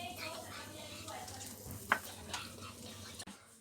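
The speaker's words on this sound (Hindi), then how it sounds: "अब इसको इसके साथ मैं 10 मिनट के लिए पकाऊंगी, जब तक चिकन हमारा पक नहीं जाता।" Chicken cooks in a pan with lemon juice, giving a soft, steady sizzle with occasional stirring and a light clink of utensils, quiet and continuous.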